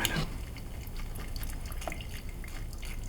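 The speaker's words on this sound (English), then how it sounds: "make sure we get rid of all that watermelon pulp and be left with just the beautiful juice" Watermelon juice straining through a hand-held strainer into a jug, a steady trickling and dribbling liquid sound with faint drips, fairly close and continuous, with no voices.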